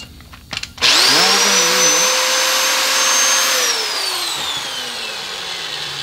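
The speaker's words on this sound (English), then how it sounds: "So all this is a reamer to the proper size." A power-driven reamer sizes an engine valve guide, a loud whining spin-up after a few clicks, the tone rising and wavering before settling, then gradually winding down as the tool slows.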